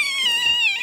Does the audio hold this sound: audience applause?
no